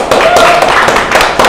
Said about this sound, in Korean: 박수로 합시다